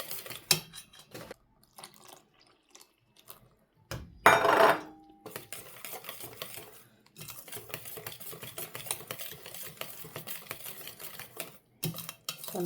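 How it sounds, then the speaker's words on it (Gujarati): A spoon scrapes and clinks around a bowl, mixing milk powder with milk for penda batter, in short irregular bursts of stirring with a few louder knocks. "આપણે 3 વાટકા દૂધ એકદમ મસ્ત મજાનું મિક્સ કરી લેવાનું છે"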